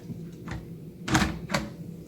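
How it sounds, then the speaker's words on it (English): The front door of an Instant Pot Vortex air fryer is opened at an angle and lifted off, giving a few short plastic clicks and clunks close by, the loudest near the middle, over quiet room noise. "open the door at a 45-degree angle, and then remove the door by lifting up the right-hand corner"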